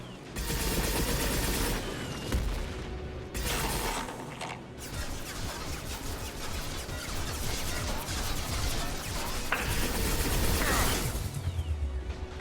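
Enemy gunfire in Mass Effect 2 clatters almost continuously and loudly, a dense barrage of shots mixed with mechanical crashes and impacts, broken by a couple of brief gaps.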